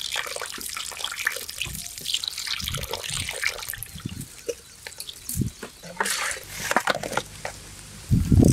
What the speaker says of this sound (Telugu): ఇప్పుడు నీళ్ళు పోసి నీట్గా కడుక్కుందాం.